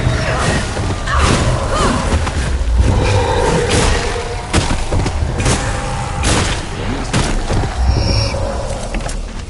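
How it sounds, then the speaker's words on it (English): Barrels blowing up in a mine in the game Flintlock: The Siege of Dawn set off a cave-in, heard as a run of deep booms, thuds and crashing rubble over continuous rumbling, with scattered clanks and a roaring texture throughout. "whoever blew those barrels caused a cave"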